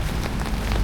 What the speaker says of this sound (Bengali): তো বৃষ্টি নেমে গেছে, এখন সমুদ্রের পাড়ে যাব